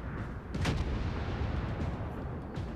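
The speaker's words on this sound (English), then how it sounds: "use the two forward guns to just try and punish him" A battleship's two forward gun turrets fire a salvo in World of Warships, heard as one loud, heavy boom early on over a dense, constant rumble of battle noise.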